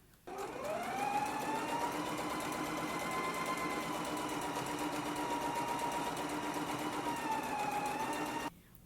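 Sewing machine stitching a narrow hem on a dress, a steady close motor whir that starts abruptly, runs evenly for about eight seconds and stops sharply.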